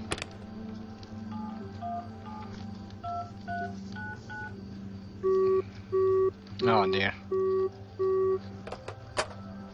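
Telephone keypad dialing tones and beeps from the video game The Final Station, with the phone line cut, heard as a series of evenly spaced loud tone bursts over a steady low hum, then a sharp burst.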